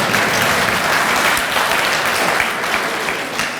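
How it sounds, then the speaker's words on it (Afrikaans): Audience at a dementia panel discussion breaks into dense, steady applause, loud and continuous throughout with no speech over it. "gee my 'n klap"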